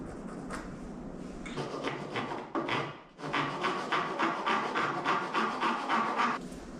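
Hand saw cutting a pen blank to length in a small woodworking shop; quiet rhythmic back-and-forth rasping strokes, a brief pause, then a steady run of even strokes close by.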